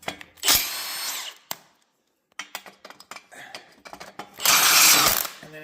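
Impact wrenches hammer at old rusty bolts on a 1960s Dodge truck, with a loud burst at the start, a scatter of clanks and short rattles in the middle and another strong burst near the end.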